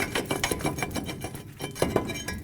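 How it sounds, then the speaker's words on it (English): A hammer strikes the back side of a brake rotor on a 2008-2010 Ford F-250 to knock it loose, producing a quick series of close metallic knocks and clinks with uneven spacing. "take a hammer it from the back side, and that should break it free"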